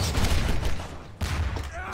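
Gunfire in the co-op shooter Half-Life 2 Synergy, dense rapid bursts of shots filling the clip with a brief gap near the middle before firing resumes, loud and close.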